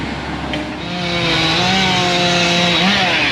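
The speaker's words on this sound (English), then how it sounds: "Got Chris over there running chainsaw." A chainsaw runs steadily while crews take down trees at a logging site with skid loaders and excavators, its engine drone loud and close, rising slightly in pitch and holding at a high whine throughout.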